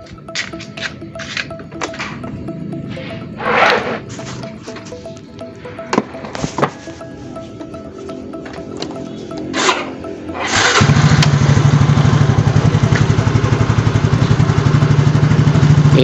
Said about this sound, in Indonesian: Ini motornya sudah bisa, sudah hidup.